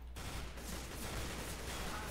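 Rapid bursts of gunfire from an AK rifle in Counter-Strike: Global Offensive crackle as a dense, fairly quiet volley of shots lasting about two seconds, with no voices.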